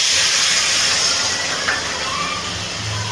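Water poured onto cumin, coriander, turmeric, Kashmiri chili powder and salt in a hot pan, for a kohlrabi and prawn curry, makes a loud, steady hissing sizzle that eases slightly toward the end, with no speech.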